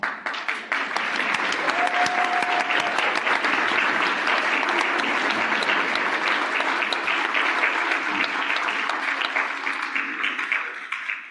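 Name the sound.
audience applauding volunteers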